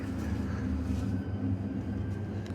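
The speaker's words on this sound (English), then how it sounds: "we can then get the train going" Retro train rolling through the snowy Swiss Alps, a steady low rumble with faint rail clatter, continuous and moderately loud.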